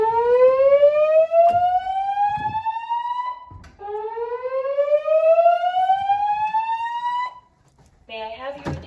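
A dormitory fire alarm sounds during a building test: loud, repeated rising whoop tones, two long sweeps in a row, with a brief voice starting near the end.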